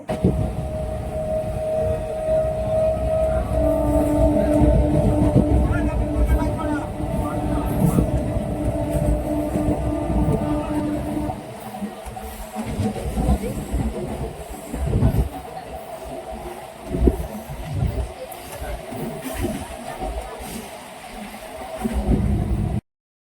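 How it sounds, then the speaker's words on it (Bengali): A Vande Bharat Express train rumbles loudly along the tracks on a rainy day with a steady roar and a high tone, then the noise thins out as it pulls away, leaving clanks and thumps. "দেখো ট্রেনটা এখন বেরিয়ে যাচ্ছে"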